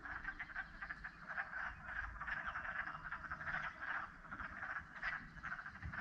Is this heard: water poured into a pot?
no